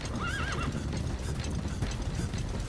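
A horse in the Metal Gear Solid V video game gallops with rapid, steady hoofbeats and gives a clear, close whinny near the start, the galloping continuing loudly to the end.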